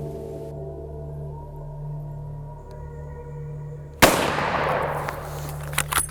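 A single loud rifle shot fired at a buffalo during a hunt cracks suddenly after a quiet stretch of low hum, followed by a fading rumble and a few faint thuds.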